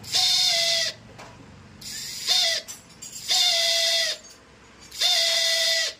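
The self-starter motor of a TVS Victor 3-valve scooter with a noise fault whirs in four separate bursts, each a high, steady whine lasting about a second with short gaps between, loud and close.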